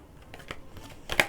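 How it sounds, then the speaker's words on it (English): Tarot cards being shuffled by hand, a few soft papery riffles building to one louder crisp burst of card flutter at the end, close and fairly quiet, with no talking. "All right, let me shuffle these because I don't want 3 cards popping out."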